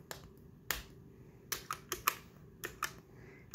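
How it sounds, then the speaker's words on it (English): Guitar effects pedals clicking on a revamped pedalboard, a scattering of sharp, close, dry clicks in an irregular sequence, some doubled in quick succession, quiet and isolated with no talking. "pedal noises are just the freaking best"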